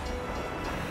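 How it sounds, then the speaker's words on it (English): Train in the video game Crisis Core, Final Fantasy VII, near Midgar: a continuous broadband rumble of a moving train, steady and fairly loud for about a second, with no voices. "I remember the train."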